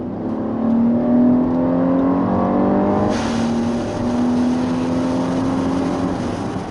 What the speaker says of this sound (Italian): Adesso provo a fare una bella accelerazione per farvi assaggiare il carattere di questo motore